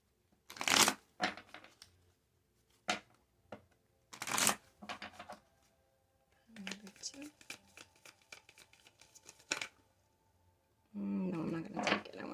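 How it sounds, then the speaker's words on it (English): Tarot cards being shuffled by hand, heard as bursts of riffling and slapping deck noise with pauses between, closer and louder at first, then lighter flicking, ending in a sustained rustle. "Let me shuffle."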